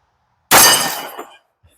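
A single sharp, loud crack of a .45 ACP round fired from a Girsan MC1911 pistol and striking a steel target, decaying quickly with a faint clang.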